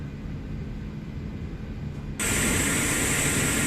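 External airliner engine noise in an airport flight simulator game, a steady jet roar and hiss that jumps abruptly louder and brighter partway through.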